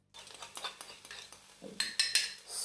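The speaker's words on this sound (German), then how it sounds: "jetzt die Eier verrühren immer so" Eggs get whisked in a pan with a utensil, giving quick light scrapes and clinks in an irregular rhythm, close but quiet, with no talking.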